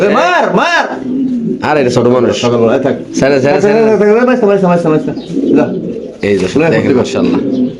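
Pigeons coo in repeated throaty rolling phrases, close and loud, while people talk over and between the calls.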